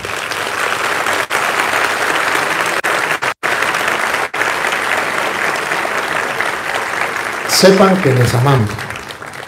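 Church congregation at Parroquia Santo Toribio Romo applauding steadily in a dense, sustained wash of clapping, while a priest keeps speaking over it and a brief burst of louder voices rises near the end.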